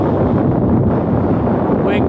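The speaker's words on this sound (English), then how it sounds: "wind gusts are just heavy right now, so you're gonna hear a lot of wind in this video." Heavy wind gusts buffeting an outdoor microphone at a scenic vista, a loud, constant low rumbling roar throughout the short stretch, close and unbroken, with no speech.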